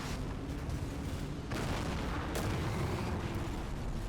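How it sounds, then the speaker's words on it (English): Heavy .50 cal machine gun fire in a combat video game, a dense, continuous barrage of loud bursts with sharp cracks near the middle and end, heard alone without voices. "It's the 50 cal fire"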